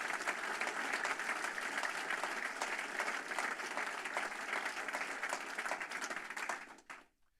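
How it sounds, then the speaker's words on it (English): A room at a basketball coach's introductory press conference breaks into sustained applause for student athletes, dense steady clapping that fades out near the end. "And I'd love a round of applause for our student athletes."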